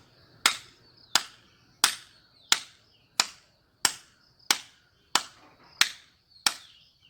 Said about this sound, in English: Just turn your hands like this and you have to clap this way for 2 minutes before every meal.